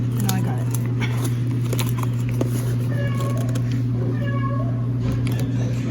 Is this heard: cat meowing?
yes